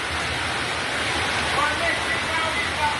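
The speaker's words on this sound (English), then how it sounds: "Rain is falling in the bucket." Dense, steady rain hisses without letup, a continuous wash of falling water that sounds close and fairly loud.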